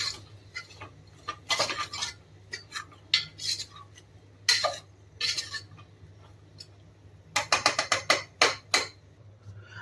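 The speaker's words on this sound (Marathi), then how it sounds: "आता याला छान मिक्स करून घेऊया।" Peas, potatoes and mixed vegetables stirred in a pan for vegetable pulao: clattering spoon-on-metal knocks and scrapes in uneven bursts, close up, over a faint low hum, with no talking.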